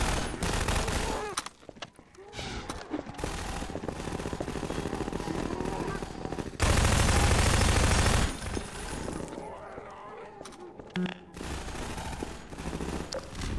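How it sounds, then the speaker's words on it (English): Gunshots in a video game, a near-continuous barrage of rapid automatic fire and overlapping shots with a few brief gaps and one especially loud dense burst midway, close and heavy, with someone talking at moments. "Where are those shots coming from?"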